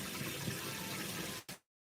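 Warm water streams steadily from a waterfall-style kitchen sink faucet, a continuous close gushing splash that cuts off abruptly near the end, followed by silence and a brief return.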